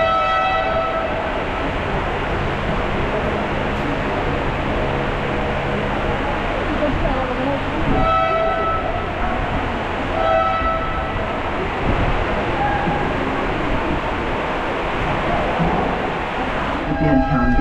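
A ropeway train at Malangad runs with a steady loud rumble and rattle throughout, with brief tonal squeals or horn-like notes now and then and people talking in the background.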